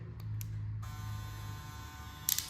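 A Kevin Junior Pro hair clipper switches on and runs, a steady close electric buzz with a low hum, ending with a few small clicks.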